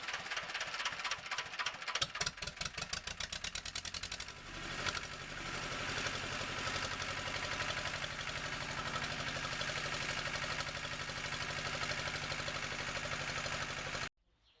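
A Slavia 2S95A2 engine runs continuously and loudly. It starts with a rapid, accelerating series of firing beats, then settles into a steady, dense mechanical drone until it cuts off just before the end.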